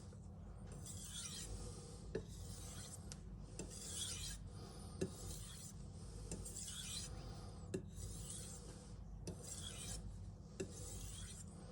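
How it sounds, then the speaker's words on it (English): A knife blade is drawn across a Shapton Glass whetstone in a steady series of close, light rasping strokes, about one every second, with faint clicks between them and no talk. "And then a few super light edge leading strokes."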